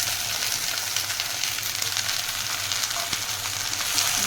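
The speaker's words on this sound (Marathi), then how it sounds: "चांगली तेलामध्ये परतून घ्यायची" Okra frying in oil in a pan gives a steady, close sizzle with light stirring scrapes throughout, no talking.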